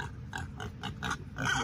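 Pig grunting and oinking in a series of short, rhythmic snorts at close range, about six bursts in quick succession.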